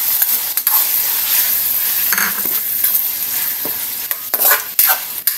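Mixed vegetables sizzle steadily in a hot pan for a simple Filipino ginisang gulay, with a spatula scraping and stirring now and then; a dense, close frying hiss fills the clip with no talking.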